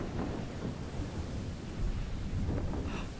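Thunder after a lightning strike in Minecraft during a stormy hurricane scene, a low continuous rumble with rain-like hiss swelling and fading, steady and fairly faint throughout.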